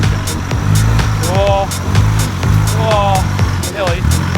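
An Isuzu D-Max truck climbs a hill, its engine droning loud and close with revs rising and dipping in repeated swells across the stretch.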